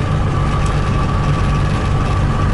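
A Trabant 601 two-stroke engine with a badly damaged bearing drones steadily while the car cruises at moderate speed, a loud continuous low rumble with a faint whine running through it.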